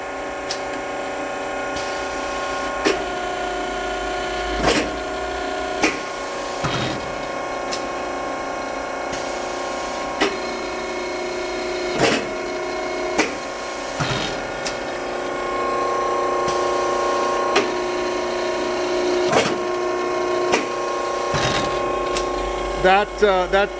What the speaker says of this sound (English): Okay, this is the whole cycle the machine's set up to run.